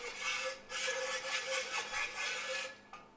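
A small nut on an AI Hydra 52 HD aquarium light slides along the groove of a mounting rail, giving a faint, close metallic rubbing scrape in several short pushes, alone.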